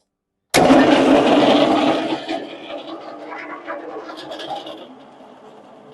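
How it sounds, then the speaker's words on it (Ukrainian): A pellet mill with a broken-in die starts for the first time, switching on abruptly into a loud mechanical roar that eases into a steadier, quieter running hum over several seconds, heard up close. "пробуємо перший запуск гранулятора"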